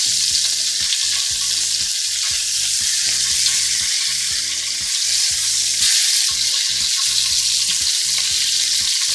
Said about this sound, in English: we have all this nice fat in our pan that we're going to cook our veggies in